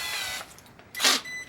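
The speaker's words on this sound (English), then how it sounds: "stick the tungsten in a power drill" A tungsten welding electrode chucked in a cheap handheld power drill gives a short whirring spin, steady at first, then a brief louder high burst near the end, with no talking.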